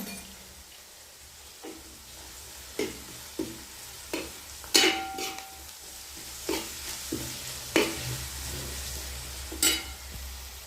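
Ingredients frying in a pan with a pinch of salt for chicken curry, a continuous low sizzle broken by regular spatula taps and scrapes against the pan, heard alone without talk.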